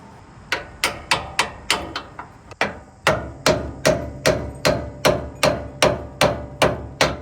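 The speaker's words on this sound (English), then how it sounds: "I will just hammer these tabs down" Steady metallic hammer strikes on metal tabs under a V8 Toyota 4Runner, about sixteen sharp blows in a fairly even rhythm, close and loud, with a brief pause partway through.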